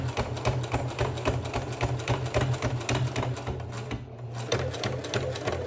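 A sewing machine runs steadily, stitching leather streetwear jeans with a fast, continuous mechanical chatter that stays close and loud throughout, with only a brief dip near the end.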